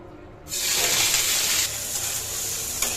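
Dried lotia fish (shutki) drops into a hot pan with potatoes and spices and bursts into a loud, steady sizzle that holds without speech.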